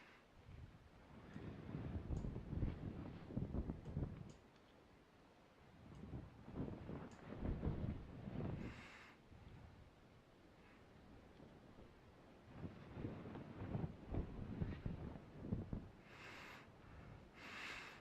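Wind gusts and rushing sea air surround sailing ships on open water in the Naval Action game, swelling and easing in broad waves with a few soft creaks or splashes, fairly faint.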